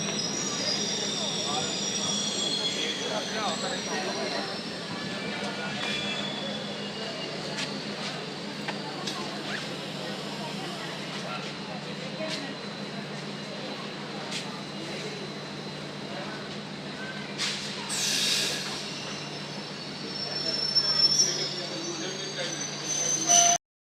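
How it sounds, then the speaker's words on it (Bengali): A passenger train pulls into Sivok station on the Siliguri–Alipurduar line at night, a steady low rumble of wheels and carriages with occasional squeals and clanks that rise toward the end, people talking over it. "ট্রেন এখন এসে গেছে আমরা এখন ট্রেনে উঠবো"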